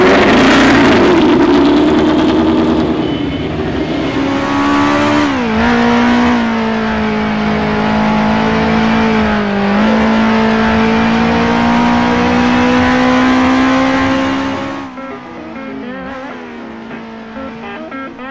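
A race car engine screams at high revs on the Targa Florio road circuit in a sim racing game, loud and close, with the pitch shifting through gear changes before it drops away near the end.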